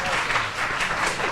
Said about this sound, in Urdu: وہ دیکھیں لوگ تالیاں بجا رہے ہیں آپ کے لیے